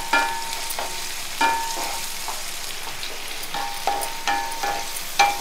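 Chicken lollipops getting a second fry in hot oil: a steady sizzle broken by repeated scraping and tapping stirs every second or so, close up and without speech.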